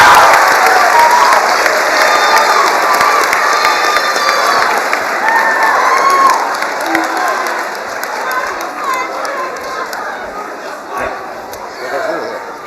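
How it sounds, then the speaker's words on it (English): A crowd applauds and cheers loudly for a teacher, dense clapping with shouts that slowly taper off over about twelve seconds. "Ladies and gentlemen, let's hear it for member number 5, Mr. Maddie."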